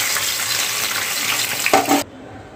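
Paneer cubes fry in hot oil, giving a steady close sizzle that cuts off abruptly near the end.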